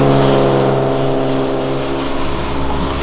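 A Porsche, a Ferrari and a Corvette pass close by in a steady, loud engine drone with layered harmonic tones that hold level for three seconds, no voices over it.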